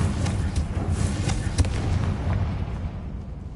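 A Confringo fire spell from Hogwarts Legacy bursts in a rumbling blast, with crackling booms that fade and trail off.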